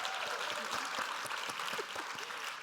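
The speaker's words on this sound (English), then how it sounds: "So do give her a round of applause." Applause from an audience at a leadership conference keynote, a steady dense wash of clapping filling the whole moment at moderate volume with no clear voices on top.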